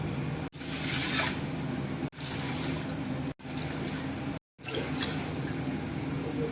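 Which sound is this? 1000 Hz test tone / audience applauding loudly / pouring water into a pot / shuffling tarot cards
pouring water into a pot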